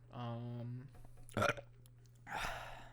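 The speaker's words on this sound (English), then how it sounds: "Good burp." A loud, brief burp erupts in the middle of a sports podcast chat about NFL defensive backs, quarterbacks and receivers, with talking heard before and after it.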